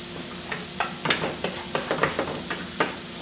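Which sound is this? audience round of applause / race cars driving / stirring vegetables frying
stirring vegetables frying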